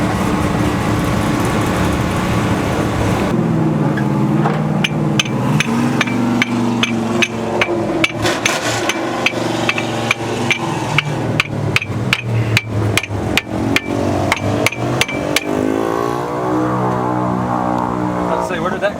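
Rapid, loud hammer blows ringing on metal, dozens of strikes in quick bursts, with a person talking and an engine-like drone underneath.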